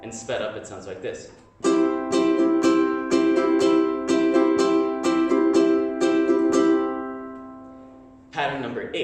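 Ukulele strummed in a sped-up down-up pattern, bright and close, about ten quick even strokes ringing together, with brief speech-like sounds at the start and end.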